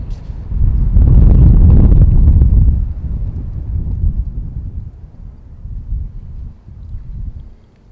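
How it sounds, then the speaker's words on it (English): Outdoor wind gusts buffet the microphone in a loud low rumble that peaks early and then eases into softer, uneven bursts, with no talking. "the wind's kicking up a little bit"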